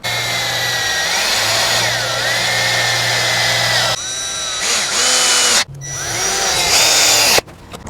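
A power drill drives screws to attach hinges to a backyard wooden gate, its motor whining loud and close in several runs, with pitch swoops and brief stops between them.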